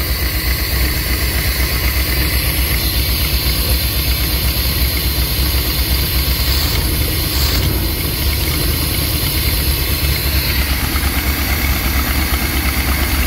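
A 1990 Chevy G30 Shasta motorhome engine idles steadily on its own, a continuous low rumble with a constant mechanical hum and no pauses, close and moderately loud throughout.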